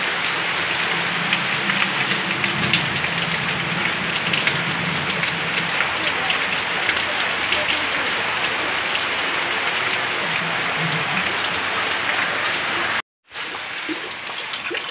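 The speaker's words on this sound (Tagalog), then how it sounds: "Lakas ng ulan dito sa amin." Heavy rain pouring by the sea, a loud, continuous hiss of drops pattering on surfaces that holds steady throughout, with a momentary dropout near the end before the downpour resumes.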